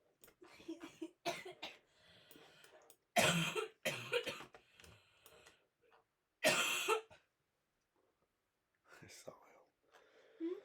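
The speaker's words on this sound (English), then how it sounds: "this cough is not good" Repeated harsh coughing bursts from one person, close and fairly loud, interleaved with whispered, breathy talking; the coughs come in two strong fits separated by quieter murmuring.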